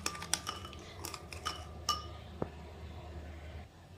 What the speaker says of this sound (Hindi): हम विस्कर से कर रहे हैं, तो दोस्तों इसको खूब बिल्कुल अच्छे से एकदम मिक्स करना है।